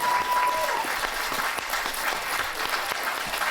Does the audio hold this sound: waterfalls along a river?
no